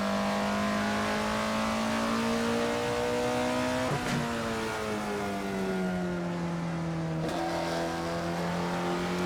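Under hard throttle, the Alfa Romeo 33 Stradale engine in Assetto Corsa climbs steadily through the revs, loud and close, with two quick gear-change dips before rising again; no voices.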